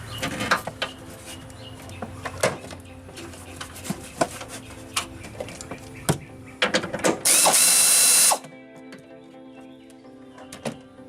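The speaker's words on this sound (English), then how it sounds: "you'll have to use a ratchet or wrench on it" Ratchet wrench clicking on a radiator mounting in the engine bay of a 2000 Pontiac Bonneville during radiator installation: irregular close mechanical clicks and taps, with a brief loud hiss burst partway through and no talk.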